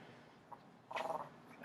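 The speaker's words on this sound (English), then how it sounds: "We got our guard dog here." A guard dog gives a quick cluster of short, bark-like bursts, then one sharp final yelp, fairly close in an otherwise quiet room.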